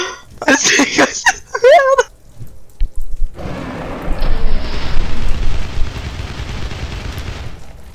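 Rocket explosions in CastleMiner Z boom and rumble in a long loud wash, following excited voices that talk over short bursts before the blast.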